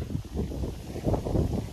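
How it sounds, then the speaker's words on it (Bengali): Gusty wind buffets the microphone in an open village field during a kite-flying festival, a low rough rumble that surges in uneven puffs. "কি বাতাস"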